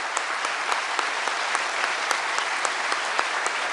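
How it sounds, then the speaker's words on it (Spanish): A large crowd at a political rally applauds for the ARSAT 2 satellite and its scientists, continuous even clapping with sharper individual claps standing out, no talk over it. "Un gran aplauso para el ARSAT 2 y para todos los científicos."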